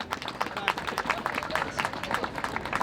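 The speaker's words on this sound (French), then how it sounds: "Et la France a besoin d'hommes comme ça, sous vos applaudissements." Crowd applause at an outdoor demonstration in France against Daech, a dense spread of clapping hands held steady for a few seconds, fairly loud and without talk over it.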